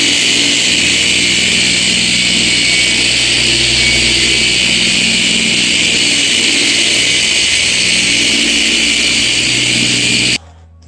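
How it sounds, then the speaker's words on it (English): An electric polisher buffs the paint on a 1970 Chevelle SS during the final buffing step, its motor whirring loud, close and steady for about ten seconds before cutting off abruptly. "So this is the last buffing step."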